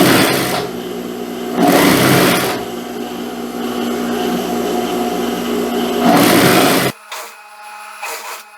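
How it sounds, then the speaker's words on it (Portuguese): An electric sewing machine stitches a seam on an elastic-waist pair of shorts, running in steady loud bursts that rise and fall, then stopping into short quieter runs near the end, with no talking. "E agora é só passar a costura"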